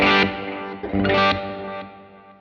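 Clean electric guitar chords through a Line 6 Helix ring out, each note trailing into a soft, spacious ambient delay and wash of reverb that fades away.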